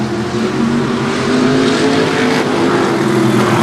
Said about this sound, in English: 2 really quick cars on the track. Here they come.